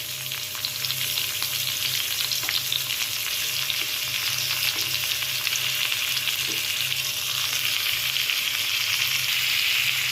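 Masala spices for vegetable brinji rice sizzling in oil in a pan, a steady, dense frying hiss that holds for the whole stretch, close and even, with a few faint stirring knocks and no talking.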